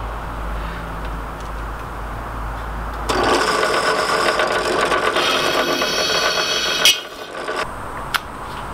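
A drill boring pilot holes in a metal hammer ram for a treadle hammer, starting after a low background hum with a steady whirring grind and scraping, then cutting out abruptly, followed by a couple of sharp metallic clicks.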